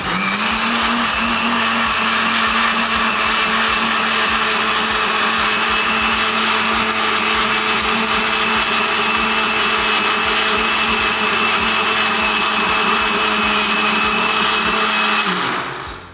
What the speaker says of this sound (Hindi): अच्छे तरीके से ब्लेंड